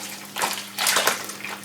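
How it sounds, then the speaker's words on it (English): A skein of yarn is dunked into a container of water during home dyeing, producing close sloshing and splashing in two bursts, with dripping swishes between them. "dunking it a couple of times"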